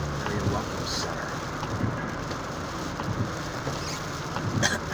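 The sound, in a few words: rain falling on a vehicle during a storm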